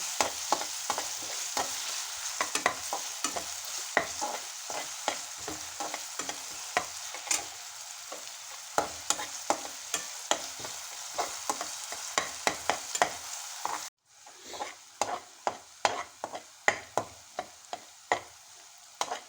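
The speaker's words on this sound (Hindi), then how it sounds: "अब इसको गोल्डन ब्राउन होने तक फ्राई कर लेंगे।" Finely chopped onion frying in oil until golden brown for Punjabi sarson ka saag, a steady sizzle broken by frequent sharp scrapes and taps of a spatula stirring in the pan, close up with no voices.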